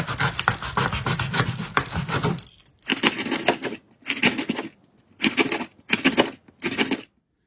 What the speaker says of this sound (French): Ensuite, on va couper en rondelles, assez fines.